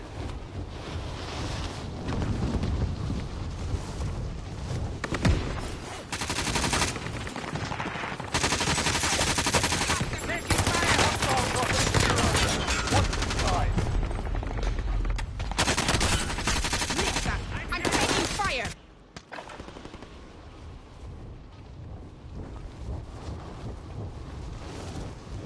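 Vector submachine gun fire in the video game Warzone, loud sustained automatic bursts with brief pauses, running continuously for most of the stretch before dropping to quieter game noise near the end.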